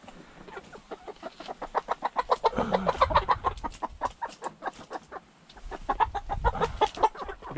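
A rooster and hens cluck in rapid, rhythmic bursts, the calls pulsing steadily and swelling at times into a louder, busier chorus, moderately near, with no voices.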